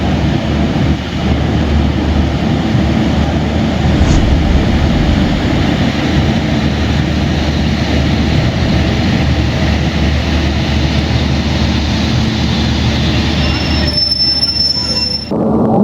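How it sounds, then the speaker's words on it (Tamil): An Erode shed WAP-7 electric locomotive arrives to haul the Nilgiri Superfast Express at Coimbatore, with continuous loud rumbling and clattering of rolling wheels and a brief high squeal near the end. "நீலகிரி சூப்பர் ஃபாஸ்ட்டை கோயம்புத்தூர்லேருந்து ஹால் பண்ண போகிற லோக்கோ எனக்கு ரொம்ப பிடிச்ச ஈரோடு ஷெட்டோடைய WJP7ங்க"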